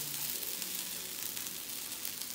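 Hash brown potatoes sizzle and fry in hot grease, a steady close, dense crackling hiss that holds throughout without talk.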